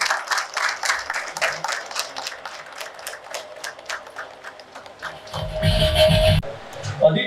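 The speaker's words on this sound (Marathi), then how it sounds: "त्याबद्दल मी सगळे एकदा टाळ्या वाजवा मॅडमसाठी" A crowd at a Rotary Club installation ceremony claps for a woman, crisp rhythmic handclaps that fade over several seconds, followed by a short burst of low rumbling noise.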